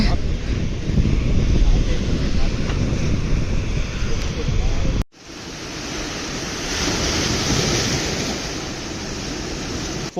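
Waves wash onto Rock Beach in Pondicherry under strong wind buffeting the microphone, a loud broadband roar that drops briefly midway and then resumes a little softer.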